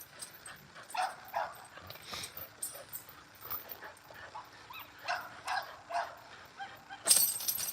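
Diamond, a dog working a springpole, gives repeated high-pitched screams and yelps in short bursts rather than barks, fairly close and loud, with a sharper cry near the end.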